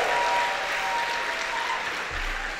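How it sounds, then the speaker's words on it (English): Sustained audience applause fills a convention hall, a dense, steady wash of many hands clapping that holds throughout, with a faint low thump near the end. "Give yourself a big round of applause."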